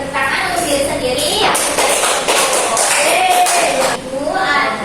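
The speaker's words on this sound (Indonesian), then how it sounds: "beri tepuk tangan untuk diri sendiri" A classroom of children clapping for themselves during a lesson, a dense burst of applause with a teacher's voice and chatter heard over it.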